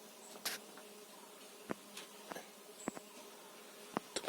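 Kept bees or flies gather at their nest hole, with faint low buzzing and several brief close fly-bys that swell and fade at irregular moments against a quiet background.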